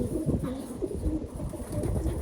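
Pet birds coo softly and steadily at close range, a low, continuous burbling without any voices.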